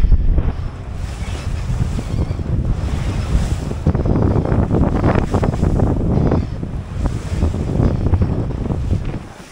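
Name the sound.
sailboat sailing close to the wind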